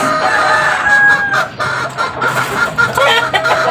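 Chickens and chicks clucking close by during feeding on a rainy day, with a steady stream of busy clucks and peeps over rain noise, and no one speaking.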